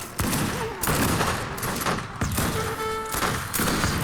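Battle in the strategy video game Age of Empires 3 Wars of Liberty, with a grenade throw among dense rapid volleys of gunfire, booming blasts and thuds that continue loudly throughout.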